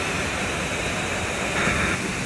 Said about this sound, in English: The force from the waterfall was so strong, it was a struggle to even get close to it.